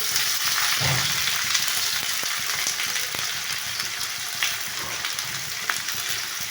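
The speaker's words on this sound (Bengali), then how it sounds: "এবার পেঁয়াজ কুচিটা দিয়ে দিচ্ছে।" Chopped onion sizzles steadily in hot oil in a wok, a continuous close frying hiss with a heavier burst as the onion hits the pan, then small clicks of movement, no talk.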